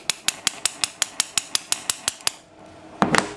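A filed bump key is struck repeatedly into a Master Lock medium shrouded padlock fitted with washers, a plastic spacer and a grommet: about a dozen sharp, evenly spaced metallic taps, a brief pause, then a louder rattling clatter as the lock gives.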